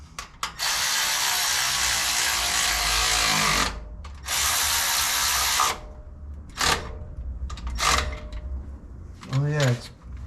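A hand ratchet tightens bolts on a 1955 Plymouth engine during a roller cam swap, with long rapid clicking runs, then shorter bursts, close and loud, and a brief voice near the end.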